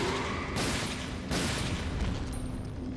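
Gunfire in the video game Resident Evil: Dead Aim comes as loud, dense bursts of shots over a constant rumbling background, with two sharp onsets close together.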